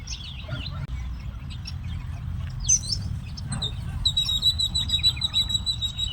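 Small birds, likely sparrows, chirp through a village morning in rural Tamil Nadu, with quick high tweets scattered near and far and a run of repeated bright notes toward the end over a low outdoor hum.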